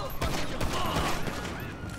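Rapid pistol gunfire in Grand Theft Auto V, a dense burst of shots packed close together and played loud, with voices talking underneath it.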